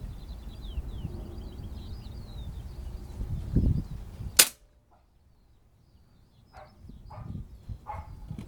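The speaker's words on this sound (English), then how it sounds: "That's the second shot." A Beeman 1357 air pistol fires a single sharp, dry crack at a target outdoors, close and sudden. Faint outdoor ambience and bird chirps come before it, and sparse quiet noises follow.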